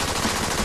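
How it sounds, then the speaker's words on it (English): An LWRC IAR Infantry Automatic Rifle firing, a loud dense burst of automatic gunfire lasting under a second, continuous and heavy with no gaps or voices. "New from LWRC comes the revolutionary IAR, Infantry Automatic Rifle."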